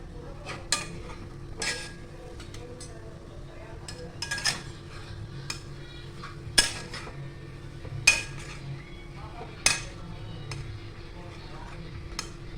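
A spoon clinks and scrapes in a pan while rava gulab jamun mixture is mixed and heated, with sharp, irregular taps over a low hiss and occasional talk.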